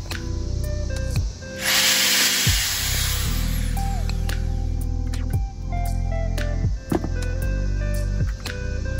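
Power drill boring holes into 5-gallon plastic buckets, several short whirring bursts with pauses between them, one brief hissing spray-like stretch in the middle.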